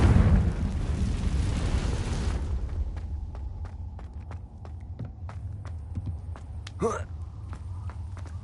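Confringo fire spell cast in Hogwarts Legacy, a loud fiery blast and rumble at the start that fades into lighter footsteps and clatter.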